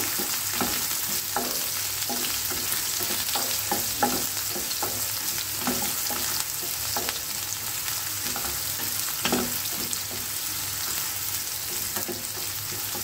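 Chopped onions sizzle in oil in a pan as they fry toward translucency, a constant bright hiss broken by regular scraping and clinking strokes of a spatula stirring them, close and alone without talk.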